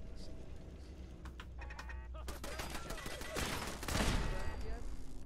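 Turret gunfire in Fallout 4 crackles in rapid, faint bursts that build and thicken toward the end, heard under a voice talking.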